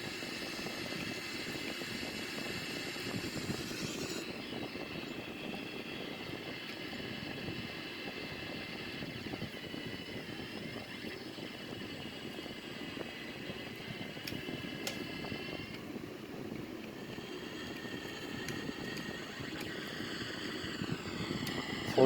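Sukhoi Su-30 jet engines in a flight simulator during a Cobra maneuver at high altitude: a steady, broadband engine roar that holds for over twenty seconds, with slight shifts in pitch partway through and no talking.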